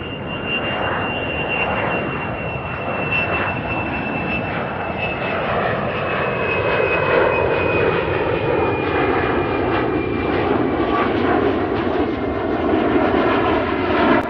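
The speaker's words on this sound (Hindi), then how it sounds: "कुछ मिनट बाद आकाश में एक पुराना चमकता DC-4 दिखा" Old, gleaming DC-4 four-engine propeller airliner flying overhead, a loud continuous engine drone with a slowly falling pitch as it passes, steady with no voices.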